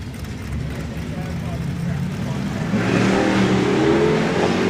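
A drag racing car with a new engine launches and accelerates down the strip, its engine roar building and growing louder toward the end, with a commentator talking over it throughout.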